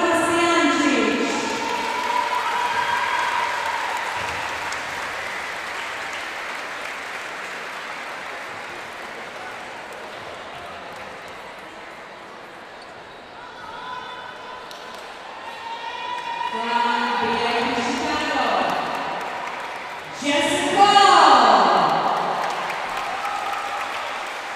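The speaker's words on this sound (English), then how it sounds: "big round of applause for Martina Bastianchi" Audience applause at an award ceremony for an under-23 competition finals: sustained clapping that fades gradually, then rises again in two louder bursts, with an announcer's voice heard over the crowd.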